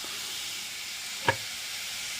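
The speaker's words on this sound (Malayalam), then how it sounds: "നമുക്ക് ആദ്യം നാളികാരം വറുക്കാം അത് കഴിഞ്ഞിട്ട് അപ്പോൾ വറുക്കാൻ വെച്ചു" Grated coconut dry-roasting in a pan for a roasted-coconut sambar gives a steady, even hiss, broken once by a single soft knock partway through.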